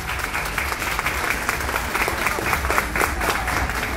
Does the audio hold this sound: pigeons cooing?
no